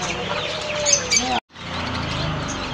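Giriraja chickens cluck and chirp inside a pet and aquarium shop, a busy mix of bird calls over steady background noise, briefly cut by a short silence before the clucking resumes.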